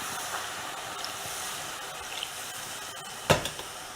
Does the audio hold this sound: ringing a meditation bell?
no